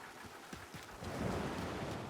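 Steady rain hisses and patters in the video game Mafia: Definitive Edition, swelling slightly louder halfway through, with no voices.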